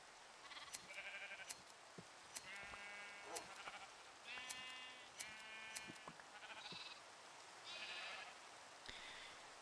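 Sheep bleat repeatedly in the Minecraft modpack FTB Revelation, a run of short nasal calls spaced across the stretch at moderate volume, with no talking.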